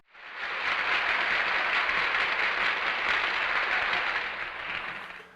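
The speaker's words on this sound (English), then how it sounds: "Everyone give him a round of applause." Warm audience applause greets a guest, swelling quickly into a full, dense burst of many hands clapping, holding steady, then tapering off at the close.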